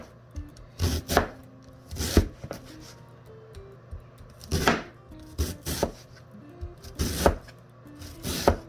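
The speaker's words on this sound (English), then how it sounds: "I'm just gonna just slice, not too thin, but thin enough to give you those chopped sizes that you need" A knife slices vegetables for veggie pancakes, cutting into strips on a board in clusters of sharp, close, knocking cuts with short pauses between the bursts.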